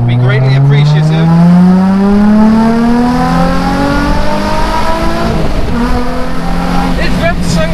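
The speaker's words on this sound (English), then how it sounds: "It's revved so high." A Nissan 350Z engine revs high and loud from inside the car, rising in pitch, dipping briefly and climbing again in a tunnel run, with a voice talking over it.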